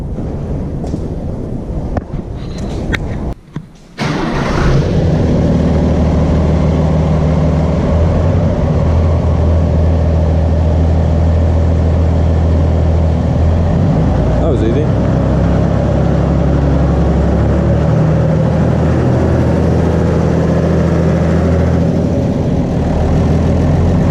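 A farm vehicle engine, just topped up with coolant and oil, cranks briefly and then settles into a steady, loud, low idle that runs continuously close by, with wind buffeting the microphone.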